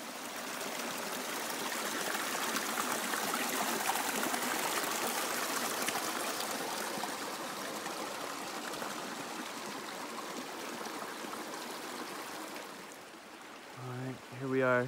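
Water rushes steadily through a gold sluice box at an Oregon dig site, a constant close, loud gushing and splashing that fades slightly near the end, where a voice starts to speak.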